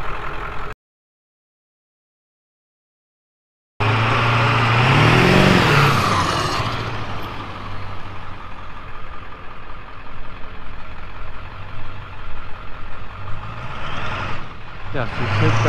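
A diesel truck with a 7.3 Powerstroke engine and upgraded 180cc injectors rumbles past, swelling loud as it draws near, then settles into a steady low idle with faint voices nearby.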